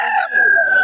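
A young stag rooster crows once, a short loud nasal call with a sustained rising tone, close to the listener with no talk over it.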